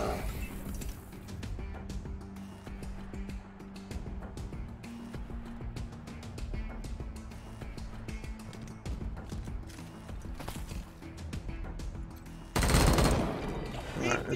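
Rapid bursts of gunfire ring out in the video game Wasteland 3 during a turn-based combat encounter, a run of sharp repeated shots followed by a louder crash near the end.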